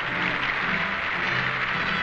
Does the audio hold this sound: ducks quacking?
no